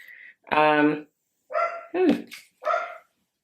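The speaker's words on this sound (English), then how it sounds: "Sorry about my dog barking." A dog barks nearby in a room, giving several loud, separate barks and yips with short pauses between them, heard alone without talk.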